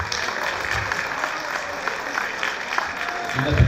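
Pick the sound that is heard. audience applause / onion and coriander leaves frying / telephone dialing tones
audience applause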